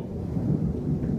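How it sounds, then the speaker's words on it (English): Deep thunder rolls through a heavy rainstorm that is flooding a backyard and creek, a loud, continuous low rumble under the steady wash of pouring rain. "Now there's thunder."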